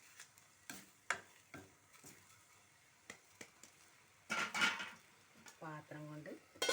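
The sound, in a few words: stirring cheera thoran (amaranth leaf stir-fry) in a pan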